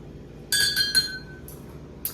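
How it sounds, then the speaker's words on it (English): A spoon stirring cream into a mug of coffee: a few bright, ringing clinks against the cup in quick succession, then a softer tap, close and clear with no talking. "Oh, I gotta stir this up."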